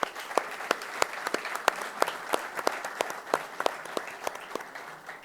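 An audience at a coaches' congress panel session applauds for a panel member, with sharp individual claps standing out over a steady wash of crowd clapping throughout.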